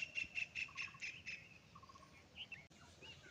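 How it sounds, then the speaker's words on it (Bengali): Birds calling outdoors beside a fishing spot: a quick run of bright, repeated chirps, then scattered, fainter tweets over a quiet background with no talk. "চারিদিকে পাখির ডাকতেছে কত সুন্দর তাই না?"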